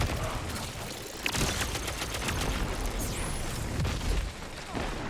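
Rapid sidearm gunfire in the shooter Destiny 2, a dense, loud stream of shots with explosive bursts layered over game effects, continuous throughout without any talk.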